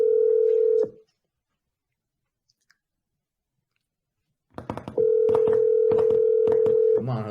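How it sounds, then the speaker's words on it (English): An outgoing phone call is placed: a steady electronic line tone stops, a short silence follows, then a burst of quick dialing clicks, and the same flat tone returns, loud and close. "Answer the phone for me, brother."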